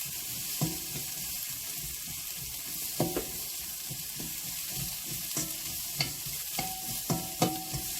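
Onions stir-frying in oil in a home kitchen, a soft continuous sizzle with intermittent scraping stirs of a utensil against the pan, fairly quiet and without talk.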